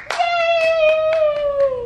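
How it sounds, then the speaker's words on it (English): A young child claps hands at home while a family member talks excitedly over it, a few soft slaps spread across a long sustained voice. "is she clapping? Are you clapping?"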